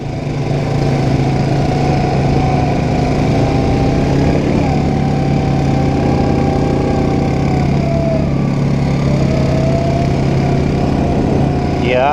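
A Polaris 570 side-by-side with a 44-horsepower double overhead cam four-valve ProStar engine runs at a steady, loud, even drone throughout, with no revving.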